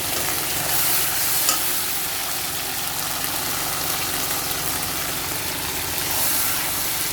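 Fish frying in plenty of hot oil gives a steady, close sizzle with a dense crackling hiss that runs without a break, alongside occasional faint scrapes of stirring.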